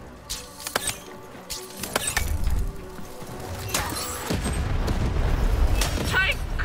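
A cannon fires in the video game Lost in Random with a burst of booming, crashing impacts amid game effects, followed by rising chaotic noise as a player talks.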